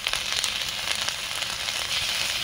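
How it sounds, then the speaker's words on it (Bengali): Spice paste of ground cumin, poppy seed, ginger and dried chilli with fennel seeds sizzles and crackles in oil in a pan for a vegetarian potato-poppy seed curry, a steady close frying hiss. "ভালো করে মশলা আমি কষিয়ে নেব"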